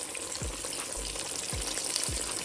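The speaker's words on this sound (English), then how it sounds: "Get that fried up so pretty." Homemade chicken-fried chicken crackles and sizzles steadily in hot oil, a dense close frying hiss with a few low thumps from the pan, no voices.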